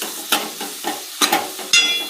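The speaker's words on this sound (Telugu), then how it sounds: "వీటన్నింటినీ మూత పెట్టేసుకొని ఆయిల్లో మంచిగా ఫ్రై కానివ్వాలి." Chopped onions and green chilies frying in oil for a chicken gravy curry, with a low sizzle broken by three distinct spatula scrapes and clinks against the pan, close by.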